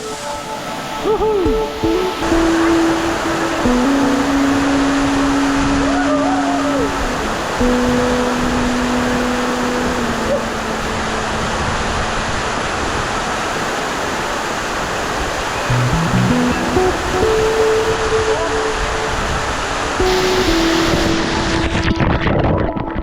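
Steady, loud rushing water from Bisibis Falls fills the whole stretch, a constant roar with faint tonal hoots drifting over it.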